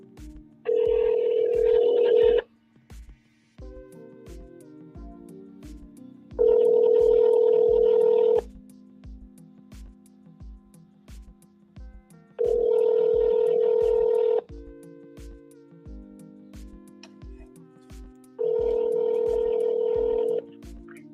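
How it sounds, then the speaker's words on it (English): Telephone call sounds: a quick run of dialing tones, then four long ringback tones spaced evenly and heard alone at moderate volume, with soft ticking between them. "Let's make a phone call."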